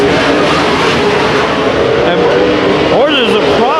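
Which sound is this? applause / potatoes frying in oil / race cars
race cars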